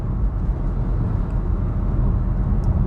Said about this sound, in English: a fair amount of noise coming into the cabin right now